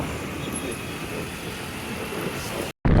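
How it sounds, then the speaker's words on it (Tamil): Heavy road traffic on a busy street in Coimbatore, a dense steady roar of car, bus and truck engines close by, cutting out for a moment near the end before resuming. "இங்க டிராஃபிக், ஏகப்பட்ட டிராஃபிக் ஆகிப்போச்சு."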